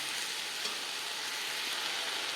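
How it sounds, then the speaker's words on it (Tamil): Vegetables sautéing with chilli powder in a pan for Tamil-style chilli chapati, giving a steady, close, continuous sizzle and hiss with no speech. "இதையும் இந்த காய்கறியோடு போட்டு வதங்கணும்"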